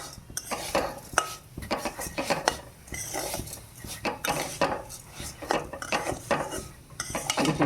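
Banana mixture frying in ghee in a pan, with a spatula repeatedly scraping and clattering against the metal in uneven bursts over a faint sizzle, close and moderately loud, with no talking.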